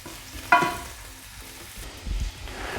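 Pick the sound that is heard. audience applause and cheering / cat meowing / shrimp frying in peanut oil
shrimp frying in peanut oil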